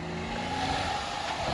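The engine of a school bus truck runs with a steady, throaty rumble that holds at a constant moderate level through a brief stretch, heard at a distance and without talk.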